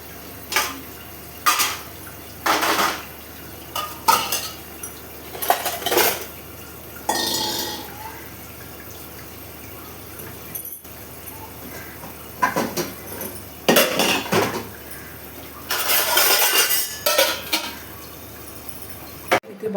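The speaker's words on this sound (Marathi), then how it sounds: "रात्री भांडे घासलेले भांडे लावते" Washed dishes and pots being put away at night, with intermittent clinks and clatters of metal utensils set down one after another, fairly close, separated by quiet pauses.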